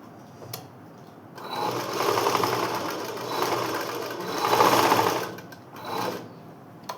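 An electric sewing machine stitches a school skirt pocket in bursts of rapid needle chatter, running, easing off and surging again, close and fairly loud.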